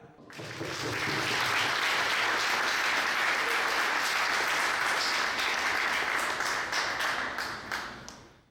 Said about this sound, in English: let's give her a nice applause, Ludovica.